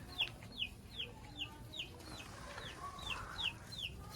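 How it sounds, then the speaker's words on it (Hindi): Chickens cluck in a garden as chicks squabble over food, giving a steady run of short, sharp, moderately faint calls at an even rhythm over low background noise. "हमारा एक चूजा कुछ पकड़ता है तो दूसरे उसके ऊपर हमला बोल देते हैं।"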